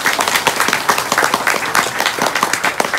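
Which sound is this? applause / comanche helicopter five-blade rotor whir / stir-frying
applause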